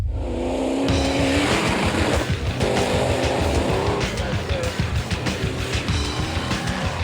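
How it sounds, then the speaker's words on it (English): High-horsepower mud trucks racing at a Pennsylvania raceway, loud roaring engines revving and rising in pitch as they tear past, with rough bursts and a continuous throbbing growl. "some high horsepower, down and dirty mud racing"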